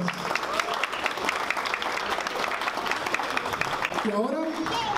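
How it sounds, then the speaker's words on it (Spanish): Guests at a baby shower clap in a sustained burst of applause that carries on for several seconds, and a voice rises briefly near the end. "Aplauso para este bello momento"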